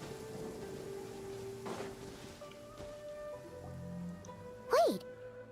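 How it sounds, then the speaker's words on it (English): Steady rain falling in the video game Genshin Impact, a soft continuous wash with a faint low rumble, playing under a background music bed and ending with a short bright chime. "It always rains when I go on an adventure."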